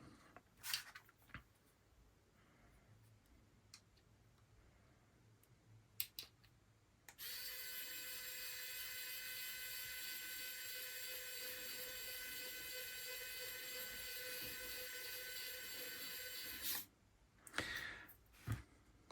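A powered screwdriver drives standoffs into a Pimoroni NVMe case for a Raspberry Pi 5 with low torque. It gives one steady, even whir of about nine seconds, with faint handling clicks before and after.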